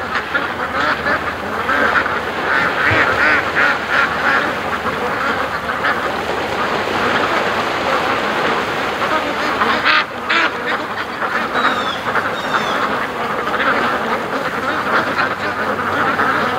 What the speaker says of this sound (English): Happy ducks.